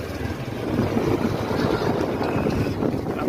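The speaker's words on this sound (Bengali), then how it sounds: "প্রচন্ড বাতাস বইতেছে, প্রচন্ড বাতাস" Strong wind buffets the microphone during a rickshaw ride along a highway, a loud, rough, continuous roar with rumbling gusts and no clear pauses.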